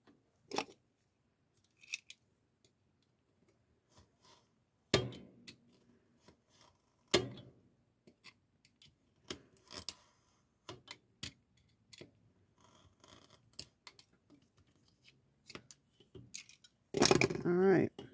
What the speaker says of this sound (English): Either way, this one needs to be cut.